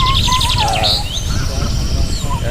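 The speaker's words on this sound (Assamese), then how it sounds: "চৰাই দেখিছে মোৰ ওপৰত, এয়া চৰাই উৰি গৈছে।" Small birds chirp and call repeatedly on a misty, foggy morning in a natural rural setting, bright overlapping tweets above a steady low rumble of background noise.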